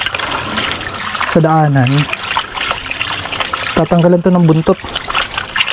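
Strong water runs from a sink tap at a beach campsite, a steady gushing trickle heard throughout while people talk over it.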